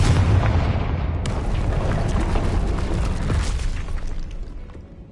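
A Confringo fire spell in Hogwarts Legacy lands with a heavy, booming explosion that roars and crackles for several seconds before slowly fading, loud and close with no talk over it.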